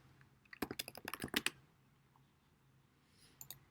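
Fingers type on a computer keyboard in a quick, close flurry of crisp key clicks lasting about a second, then pause before two final taps.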